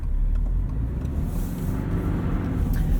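A Subaru BRZ on X-Ice winter tires brakes on snow, heard from inside as a steady low road and engine rumble with tire noise that eases slightly midway, loud and close, no talking.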